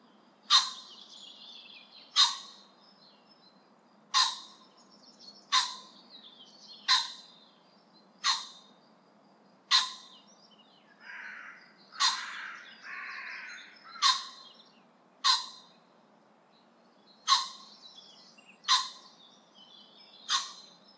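Common pheasant calling in open Polish farmland: loud, harsh, abrupt calls repeated every second or two, with softer chattering between some of them, alone against a quiet background.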